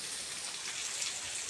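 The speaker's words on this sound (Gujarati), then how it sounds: "આજે વિજાપુર શહેરમાં મુસળાધાર વરસાદ કહી શકાય" Heavy unseasonal rain pours steadily in Vijapur town, a dense continuous hiss of drops striking surfaces with no pauses or voices.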